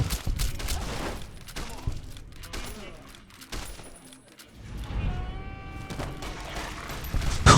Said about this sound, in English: Oh, God, he's got a gun!